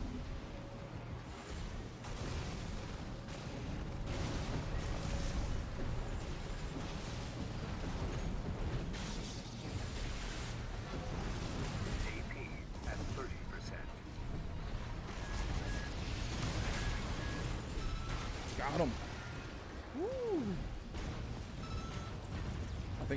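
Armored Core 6 combat with booming explosions and heavy cannon fire, a dense, rumbling low-end din scattered with bursts, clanks and short mechanical whines, fairly subdued and continuous.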